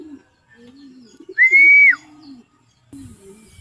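Pigeons at a home loft give soft low cooing calls, with one bright sustained whistle-like tone in the middle, close and fairly loud with quiet gaps between.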